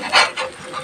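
A slice of bread fries in a pan for an egg cheese sandwich. It gives three short, raspy scraping and sizzling bursts as it is pressed and moved.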